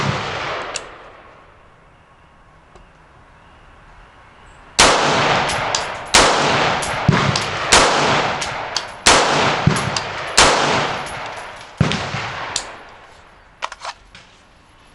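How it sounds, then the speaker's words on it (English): A firearm fed from a 10/30 ASC magazine fires a series of about eight sharp, loud shots at uneven intervals, each with a short ringing tail, after several quiet seconds. "This is my first time shooting with a 10/30 ASC Mag."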